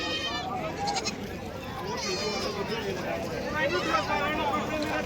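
Goats bleating amid the busy crowd noise of a rural goat market in Dhule, with several overlapping calls rising through constant background chatter and movement.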